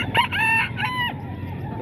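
A rooster crows loudly and close at a poultry stall in a Baliwag, Bulacan market, one full harmonic call rising and falling, followed by faint clucking.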